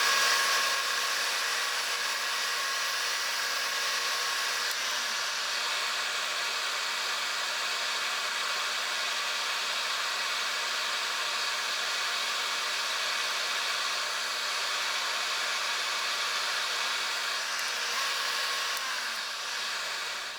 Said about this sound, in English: I'm going to go ahead and do the sanding